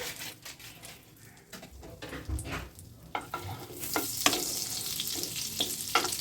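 Whole spices fry in a mix of butter and oil in a pan, making a close, soft sizzle with scattered crackles and ticks that grows brighter and fuller halfway through; no one talks.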